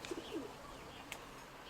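A pigeon in a backyard loft gives a couple of soft, brief coos early on, then a faint flutter or chirp a moment later, fairly quiet and set against a low steady background hum.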